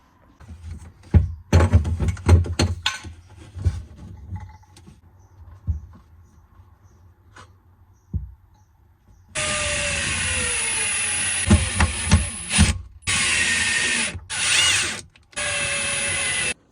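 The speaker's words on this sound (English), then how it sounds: "I'm gonna go ahead and screw the sending unit in" Fuel sending unit being screwed into a 1990 Sea-Doo SP jet ski, with scattered clunks and taps followed by a sustained, close, high-pitched whirring from a power driver in several bursts separated by short pauses.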